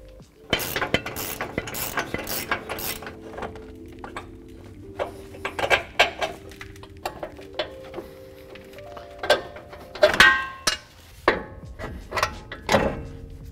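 Lower control arm bolts on a 2021-2023 Ford F-150 being worked loose and tapped out during a leveling kit install, with a series of sharp metallic clinks, taps and ratchet clicks, some close and loud, with quieter pauses between bursts.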